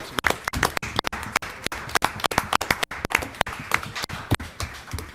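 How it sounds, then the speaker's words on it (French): Applause at an agglomeration council assembly: a brisk run of sharp, evenly spaced hand claps from a small group, fairly close, with no talking over it. "On applaudit"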